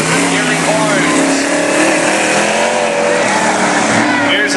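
Race car running on the Cottage Grove oval during national qualifying night, a Hurricane chassis out of Medford with its engine droning loudly and steadily at high revs, under an announcer's voice over the PA.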